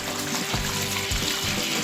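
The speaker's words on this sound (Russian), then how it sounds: "Залью лишь так, чтобы вода была на дне." Water poured into the bottom of a large 20-litre container while setting up a shiitake mushroom growing project, a steady close rushing splash with brief gurgling surges, running continuously without talk.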